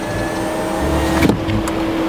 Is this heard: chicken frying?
no